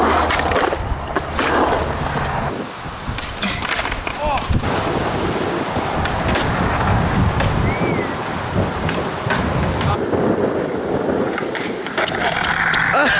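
Skateboard wheels rolling and rumbling over pavement outdoors, a loud continuous gritty roll with clacks and bumps, wind noise and some voices in the mix.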